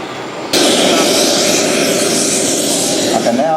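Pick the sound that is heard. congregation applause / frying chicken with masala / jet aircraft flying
jet aircraft flying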